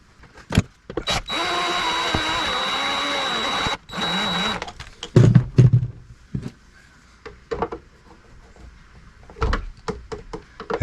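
A cordless drill drives battery cable screws in an off-grid cabin solar power system, with a sustained whirring run of a few seconds, a shorter burst after it, then scattered clicks and handling knocks, close and fairly loud.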